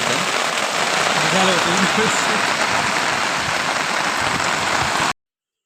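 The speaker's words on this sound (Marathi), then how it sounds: "जोरात पाऊस आलाय" Dense, steady hiss of heavy rain pattering on surfaces, with a faint voice-like murmur briefly underneath before the sound cuts off abruptly.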